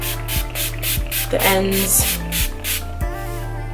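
Repeated short hissing sprays from a spray bottle onto synthetic goddess locs, several bursts in quick succession, close by, with a brief spoken phrase and a faint tonal hum underneath.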